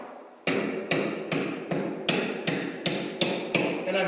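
A screwdriver taps on wood, sounding it for hollow spots during a termite inspection: about ten sharp knocks at an even, brisk pace, close and fairly loud, with no talk.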